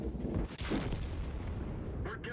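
A Leopard tank's cannon fires in World of Tanks, a heavy, booming blast up close with a rumbling tail, while someone talks over the game sounds.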